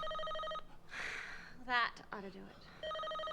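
A telephone rings in a tense drama scene after a call is placed: two bursts of a harmonic electronic ring bracket a stretch where people talk over it, the ring clear and fairly close.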